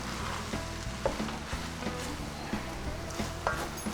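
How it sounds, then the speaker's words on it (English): Flour cooking into meat filling for shepherd's pie in a pan, a dense steady sizzle with occasional soft stirring scrapes and taps, close and moderately loud. "We're going to add some flour. This will help thicken up our shepherd's pie. Cook this out. Get the flour cooked out."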